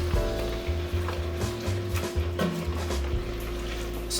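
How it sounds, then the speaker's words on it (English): Pork with onions and garlic searing in a pot for sinigang, a steady close sizzle and frying crackle running the whole time with occasional stirring scrapes, no talking. "we can really get the meat and the onions and the garlic really nice and tender and seared"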